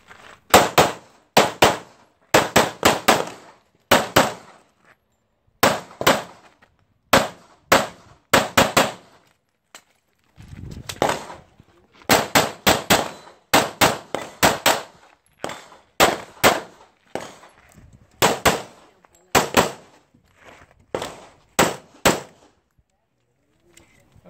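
Pistol shots crack in rapid bursts during a timed practical shooting stage with a ZEV speed gun, loud sharp reports in quick groups of two to five with brief pauses between, continuing for about twenty seconds.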